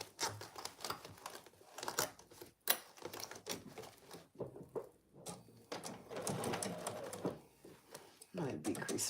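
A sewing machine stitches oven mitts in short bursts of rapid mechanical clatter broken by pauses and rustling fabric, fairly quiet and close.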